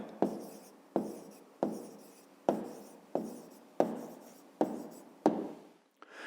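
Pen writing a math answer on paper, eight evenly spaced scratchy strokes, each a short rubbing burst that fades, close and quiet with no speech.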